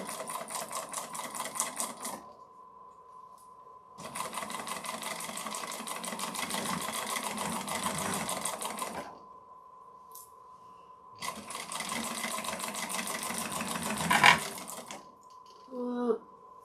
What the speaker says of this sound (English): turn it and top stitch. And after I'm done stitching this one on, I'm going to check that bobbin